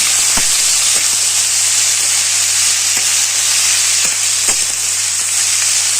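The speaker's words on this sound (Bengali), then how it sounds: "এমনি করে একটু লাড়িয়ে নেবো ভালো মতন, তেল সব জায়গা লাগিয়ে যায়" Bottle gourd peels with chili fry loudly in hot oil, a dense, steady sizzle up close, broken by a few faint stirring knocks and scrapes.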